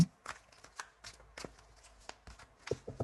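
Tarot cards shuffled by hand in a series of soft, quick riffles and slaps, close and quiet, with brief pauses between them and no speech.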